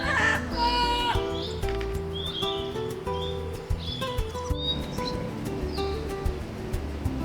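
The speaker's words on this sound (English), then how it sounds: "our first parrot of the trip in this yellow-crowned Amazon, which had the characteristic of pretty bird, ugly call" A yellow-crowned Amazon parrot gives harsh, grating calls with a few higher chirps from other birds, set against a busy, layered outdoor background in Panama City.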